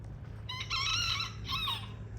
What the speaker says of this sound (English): We got Nate over there, that little tiny rooster